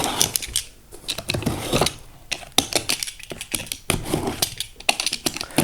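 Packaging being unwrapped close by: irregular crinkles, snips and sharp plastic or paper clicks in quick bursts, with brief quiet gaps, no talking.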